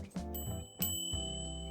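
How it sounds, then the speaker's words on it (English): A handlebar bell on an Urtopia Joy Ultra carbon e-bike rings twice, two bright metallic dings with long sustained ringing tones, close and clear with no talk. "a nice bell"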